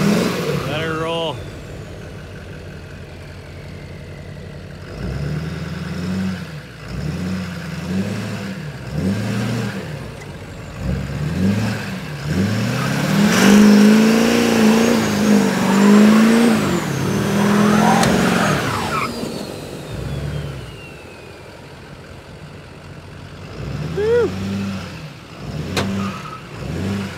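A Chevy diesel truck and a Ford F150 Platinum accelerate hard on a dusty surface, their engines rising and falling in repeated revving surges with tire noise. The sound is loud and nearby, with people talking over it.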